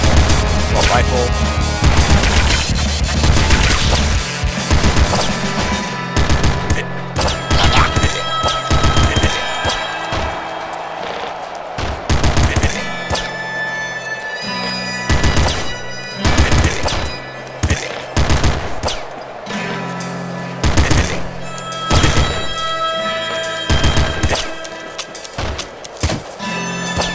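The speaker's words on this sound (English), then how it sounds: "Assault rifle." Rapid automatic gunfire from an assault rifle in Nuclear Throne, sustained bursts of loud clattering shots with brief gaps, layered over busy game music and effects.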